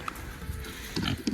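A few low, close pig grunts come in short bursts near the end, over a busy background of shuffling and faint noise.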